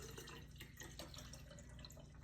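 Tap water runs steadily into jars being filled for water kefir, a continuous splashing trickle heard up close and fairly quietly, with no talking.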